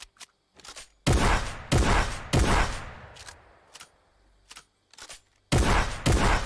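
SCAR assault rifle in Fortnite firing in several loud, sharp bursts, with short rapid volleys separated by brief pauses and a lingering echoing tail between them.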